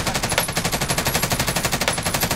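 Rapid automatic gunfire from a weapon in Call of Duty Warzone's Vanguard Resurgence event, a steady, evenly spaced stream of loud shots with no talking.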